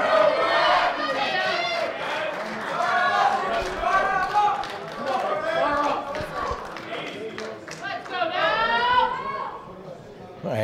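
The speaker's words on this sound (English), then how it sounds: "there's a lot of noise in the crowd" At the women's 63 kg World Sub-Junior and Junior Powerlifting Championships, a loud arena crowd shouts and cheers in excited waves throughout, with overlapping voices and yells close to the microphone.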